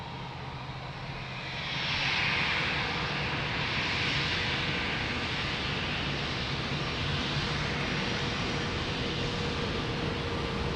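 An A330 airliner arriving at Lisbon Airport from Fortaleza gives a broad, steady engine roar that swells after the first two seconds and holds loud and even, with no voices.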